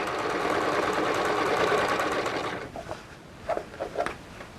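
A sewing machine runs a decorative design stitch on a princess-seamed western show jacket, humming steadily up close for about two and a half seconds before stopping. A few faint handling clicks follow.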